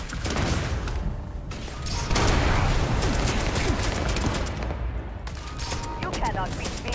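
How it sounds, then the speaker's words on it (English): Heavy gunfire in the Starfield video game, dense continuous bursts and booms filling the scene at close range, with a voice speaking over the shooting. "Let's get the big guns out now."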